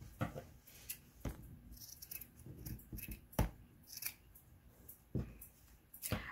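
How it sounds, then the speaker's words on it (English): Scissors cut through white felt for a crocheted gingerbread ornament face, a quiet close series of irregular crisp snips and blade clicks. "We're just going to use some white felt to go ahead and cut out a face for him."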